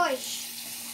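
Water being poured into a cooking pot while chicken and potatoes cook with rice, a steady rushing pour that starts with a brief rising gurgle and continues evenly up close throughout.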